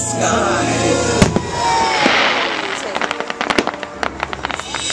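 Fireworks burst over the Legoland Windsor wizard show, a whooshing launch followed by a rapid crackling string of sharp pops and bangs. A voice speaks over the display.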